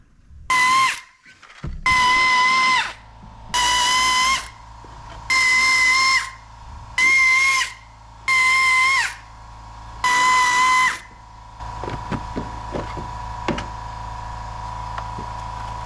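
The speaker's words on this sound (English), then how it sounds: "Just unscrew all the screws all around this piece" Screws come out of the black engine cover on a Porsche 911 under a power driver, in seven even whirring bursts about a second each, close and loud, followed by faint clinks and handling noise.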